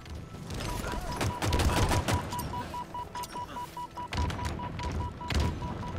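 Shock rifle fire in Halo Infinite crackles in rapid, uneven bursts of close gunshots, broken by short gaps and echoing booms from the match.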